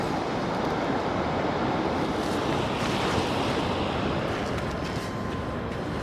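Steady surf washes continuously onto a clean beach at low water on the North East Scotland coast, a broad, unbroken roar mixed with some wind buffeting the microphone.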